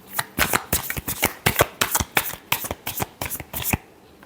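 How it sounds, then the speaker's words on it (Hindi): Tarot cards being shuffled close up, a quick run of crisp riffling flutters in an even rhythm that stops just before the end. "Last shuffle."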